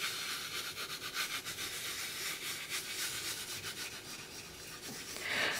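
Fingers rub glitter into a sheet of polymer clay, producing a soft, continuous close-up scratchy hiss with gentle rhythmic strokes and no voices.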